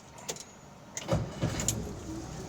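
A 1955 Dodge Coronet Suburban wagon with its original motor cranks and starts, a few brief low bursts followed by a steady soft engine note, fairly quiet.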